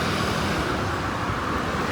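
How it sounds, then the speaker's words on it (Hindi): Dense road traffic in thick fog, heading toward Daryaganj, gives a steady, loud broadband roar of cars and buses, an unbroken wash of engine and tyre noise with no distinct single vehicle standing out. "यहाँ ट्रैफिक आ रहा है बहुत ज़बरदस्त"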